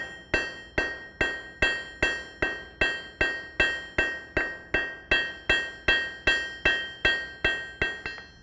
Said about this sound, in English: I'm going to use the cross peen and spread that material to give me a little bit more up top here.